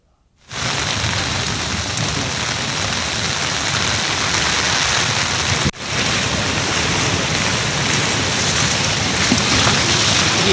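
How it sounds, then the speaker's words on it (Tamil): Heavy rain pours in a dense, unbroken hiss that starts abruptly and holds steady, with one brief dropout partway through. "கனமழை பெய்து வருகிறது"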